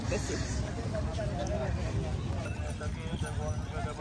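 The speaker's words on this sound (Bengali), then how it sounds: "ঘোড়াও আছে, কেউ যদি ঘোড়ায় রাইড করতে চায়।" Horse hooves clip-clop rhythmically amid a busy outdoor tourist crowd at Shada Pathor, Volaganj, Sylhet, with people talking throughout.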